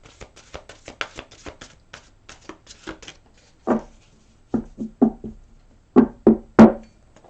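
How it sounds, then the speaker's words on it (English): Crisp, rapid tarot-card-shuffling taps in a quick flurry, then several louder separate slaps and riffles, close up with no talking. "One more shuffle."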